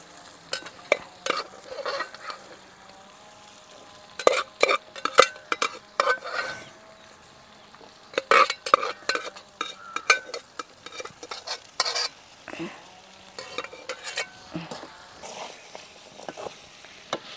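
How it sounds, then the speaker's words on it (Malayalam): Boiled jackfruit seeds are stirred in a hot pan with a steady sizzle underneath, and a utensil scrapes and knocks against the metal in irregular bursts close by. No one speaks. "ഇനി നമുക്ക് ഈ ചക്കക്കുരു വേവിച്ചത് ഇതിൽ ഇട്ട് കൊടുക്കാം"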